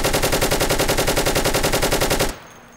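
An FN FAL rifle in the video game Insurgency fires a sustained rapid burst of loud, evenly spaced shots for about two seconds, then stops abruptly into quiet.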